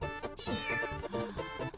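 A cat meowing in a video game, a couple of clear, close, tonal meows filling the short moment on their own without any talk.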